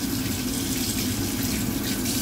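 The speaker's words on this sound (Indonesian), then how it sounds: "Air bisa lebih dikecilkan lagi biar tidak terlalu banyak membutuhkan air, karena kalau tidak air mengalir saya ini kurang puas" Tap water runs steadily into a sink while fish is cleaned, a close, continuous splashing rush with no voices over it.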